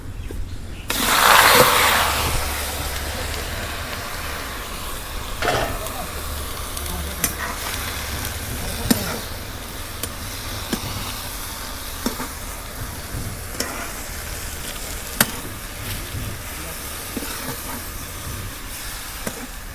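Pumpkin greens fry in a wok with shrimp, a loud burst of sizzle as they go in, then a steady hiss broken by sharp scrapes and knocks of a spatula stirring at irregular intervals.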